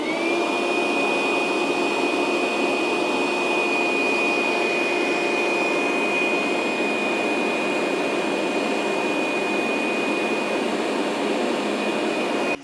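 A Dewalt DCV581H cordless wet dry vacuum runs close and loud for the whole stretch, a steady rushing motor roar topped by a constant high whine, with no talk.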